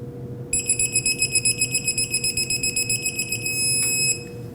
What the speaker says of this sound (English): we'll put our mounting nut on, bottom it out all the way. And torque it to 85 foot-pounds